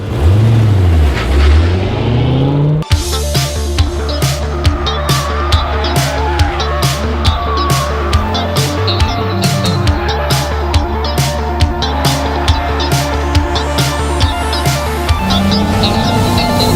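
A 1990 Chevrolet C4 Corvette Z51 with a six-speed manual is driven into a smooth slide, its engine droning loud and steady with throbbing revs and a rising pitch early on, then settling into a sustained roar.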